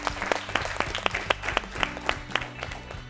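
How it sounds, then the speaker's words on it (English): A studio audience applauds a quiz team at a grand finale, with steady, fairly close clapping and some sharper individual claps throughout. "Please clap for them."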